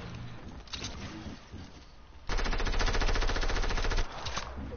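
Video game gunfire in a duo tournament: a sustained rapid burst of automatic shots at close range, dense and steady for nearly two seconds over a busy game soundscape.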